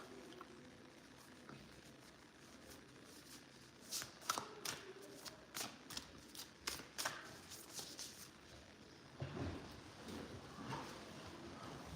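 A card drawn from a deck, heard as a run of quick papery flicks and snaps in the middle, soft and close against a faint hiss, with no talking.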